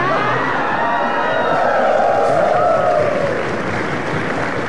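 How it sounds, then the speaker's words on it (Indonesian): A television studio audience at a talk show applauds and cheers in a dense, sustained wash of clapping, with a voice faintly mixed in. "Nih, jangan tepuk tangan dulu."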